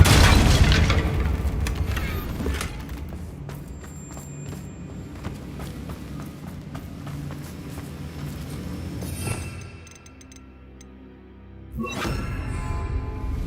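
Confringo blasting spell explosions in Hogwarts Legacy, a loud booming impact at the start followed by rumbling debris and scattered thuds, then a quieter lull and another heavy blast near the end.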